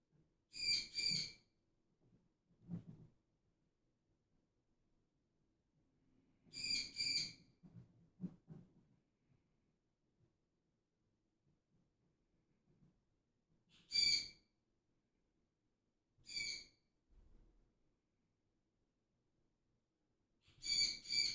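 A pet parrot gives repeated shrill, whistling calls in short bursts spread across a quiet indoor room, with long pauses between calls and faint low murmurs in the background.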